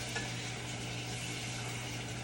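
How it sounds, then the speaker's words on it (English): Peppers and onions cooking down in a pot give a steady, close sizzle with a faint stirring texture, continuous and even throughout, with no voices. "we're just gonna let that cook down with those onions."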